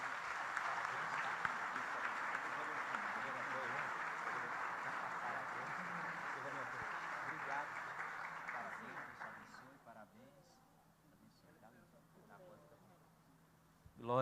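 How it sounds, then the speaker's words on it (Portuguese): Sustained applause from a church congregation at a Baptist worship service, steady and full for about nine seconds before fading into scattered claps and quiet room tone. "Vamos aplaudir Jesus."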